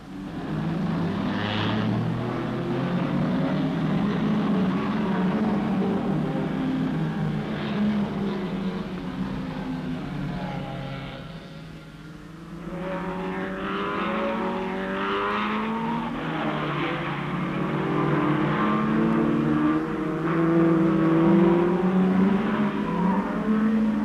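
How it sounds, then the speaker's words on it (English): Ferrari GTO and Cobra racing cars from a 1964 French road-rally event roar past, engine noise rising and falling steadily with a brief dip midway, then swelling again as the cars pass close. "The GTO Ferraris of Tovano and Bianchi alongside Trent's Cobra."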